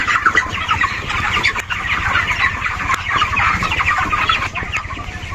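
A dense chorus of many 27-day-old chickens clucking and chattering continuously in a poultry shed, close and loud, filling the enclosed space with no talk.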